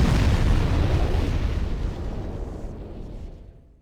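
A destroyed device explodes in Armored Core 6, a loud deep boom that starts at full force and rolls away in a long rumbling decay.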